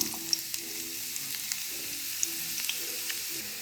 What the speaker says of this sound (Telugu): ఈ ఆయిల్ వేడైంది కాబట్టి ఆయిల్లోకి ఉల్లిపాయలు కూడా వేసుకుందాం